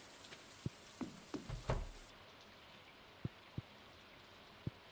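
Soft rain falls in the video game Stardew Valley, a faint hiss with scattered sharp drip-like taps, a brief cluster of splashy tones early on, and then sparse isolated drops.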